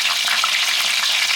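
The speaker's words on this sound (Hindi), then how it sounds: "करेले की एक साइड ये फ्राई हो चुकी है, अब इसकी साइड में चेंज करने लगी हूँ" Bitter gourd (karela) fries in oil in a pan, a brief close hiss of bright sizzling with no voices.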